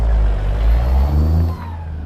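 A Cummins N14 truck engine mod in American Truck Simulator drones loud and deep, rising and falling through revs, with a hissing air release near the end.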